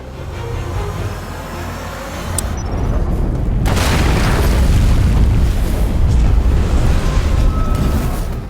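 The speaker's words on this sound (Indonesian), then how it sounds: "Melihat ledakan yang membuat rumah Jack hancur berkeping-keping" A powerful house explosion in a film, a deep booming blast that erupts loud and close midway and rumbles on with roaring debris and fire noise.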